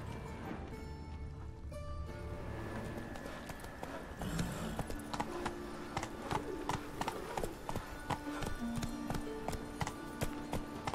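Geralt's horse Roach clip-clops across a hard surface in The Witcher 3, a steady run of close hoofbeats over faint background music and ambience, with no speech.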